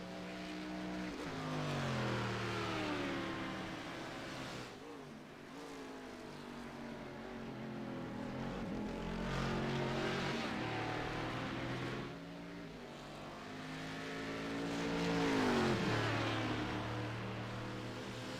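Honda LMP2 prototype in a sports car race, its engine note rising and falling steadily for the whole stretch as the car passes through the field, with a loud surge near the end and no voices.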